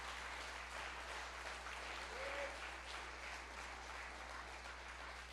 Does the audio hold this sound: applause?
yes